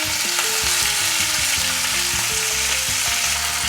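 Choy sum fries in hot oil in a pan, a loud, dense and steady sizzle filling the whole stretch close up, with background music playing underneath.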